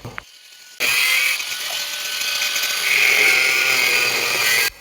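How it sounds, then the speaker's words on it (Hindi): An angle grinder cuts through the rusted metal star hub of a top-load washing machine, switching on with a sharp, continuous high-pitched whine that holds steady for several seconds before stopping abruptly. "तो हम ग्लेंडर लेते हैं और ग्लेंडर के माध्यम से इस स्टार हब को काटते हैं।"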